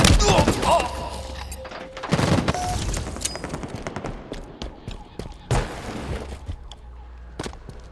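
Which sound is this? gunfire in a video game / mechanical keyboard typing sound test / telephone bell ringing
gunfire in a video game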